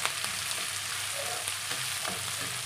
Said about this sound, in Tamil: இது 1 நிமிஷம் நல்லா எண்ணெயில் வதங்கினா போதுங்க.